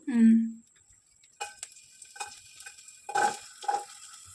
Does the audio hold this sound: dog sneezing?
no